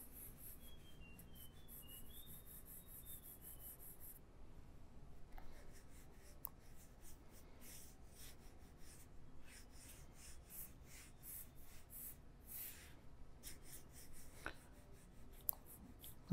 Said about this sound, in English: I'm going to sketch my ellipses